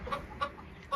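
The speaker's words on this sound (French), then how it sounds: "une petite poule coucou dorée" A small Coucou dorée hen clucking softly, three short evenly spaced clucks at close range, fairly faint.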